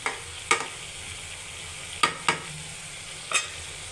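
Chicken pieces with spices stirred and sautéed in a pan, giving four or five sharp spoon scrapes and clanks spaced irregularly over a faint steady sizzle, close and alone without any voices.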